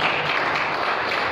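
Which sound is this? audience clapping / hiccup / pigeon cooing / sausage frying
audience clapping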